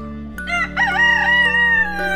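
A rooster crows nearby, one loud drawn-out cock-a-doodle-doo with a rising then sustained pitch, heard alone over a steady low background hum.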